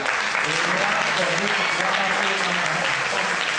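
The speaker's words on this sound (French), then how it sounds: "Applaudissez pour celle qui est descendue là." A crowd claps steadily and loudly for several seconds, a dense, even wash of applause with no breaks.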